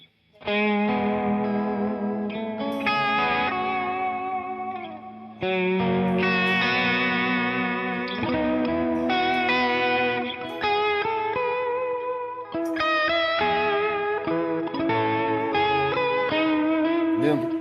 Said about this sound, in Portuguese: E já com o reverb ligado, aqui eu tenho um vibrato